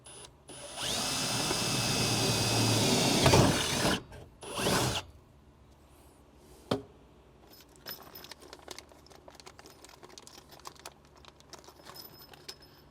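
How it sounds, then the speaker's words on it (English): A power drill bores a hole for a rear window MOLLE panel on a 100 Series Land Cruiser, whirring loudly for about three seconds, then a short second burst, followed by faint clicks and handling noises. "Now go ahead and drill our second hole."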